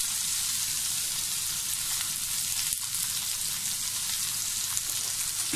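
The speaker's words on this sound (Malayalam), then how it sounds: "കൊച്ചുള്ളി ചെറുതായിട്ട് വാടിക്കിട്ടാൻ വേണ്ടി നമുക്ക് കുറച്ച് ഉപ്പ് ചേർത്ത് കൊടുക്കാം." Small onions sautéing with salt in a pan for a beef fry make an even, steady sizzle with a few soft stirring taps, close and without voices.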